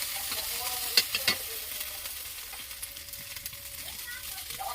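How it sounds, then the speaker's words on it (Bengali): Onion, ginger and garlic frying in oil in a home kitchen, a soft steady sizzle with faint stirring clicks and a few sharper clinks near the start, with distant voices in the background. "প্রথমে তেল দিয়ে পেঁয়াজ আদা রসুন ভেজে নিচ্ছে"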